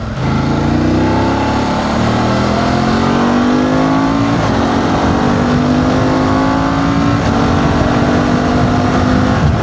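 A motorcycle engine revs and pulls steadily upward in pitch, loud and close throughout, with no voices.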